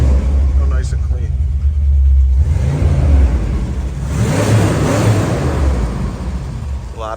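A 1962 Chevrolet Impala V8 engine with an aftermarket cam rumbles and revs up loudly with a deep throaty growl, swelling and settling over several seconds while a voice talks over it.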